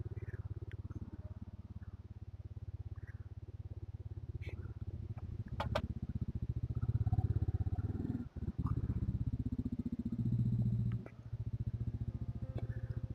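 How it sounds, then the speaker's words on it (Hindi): A motorcycle engine warms up at idle in Pahalgam, a low steady rumble close by with a few brief dips and small clicks, no talking over it. "तेरा वार्म अप हो जाए बाइक।"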